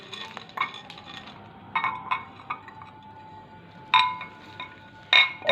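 Spoon scraping and clinking against a bowl while hot jaggery and chocolate batter is stirred with mix-ins, in sharp irregular taps and knocks over a quiet background, no talking.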